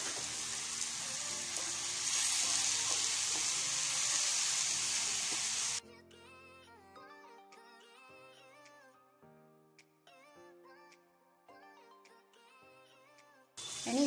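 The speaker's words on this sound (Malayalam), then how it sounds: "ഇനി ഇതിലേക്ക് തക്കാളി ഇട്ട് കൊടുക്കാം" Tomatoes frying in a pan for prawn biryani give a steady, bright sizzle for about six seconds, and music then takes over.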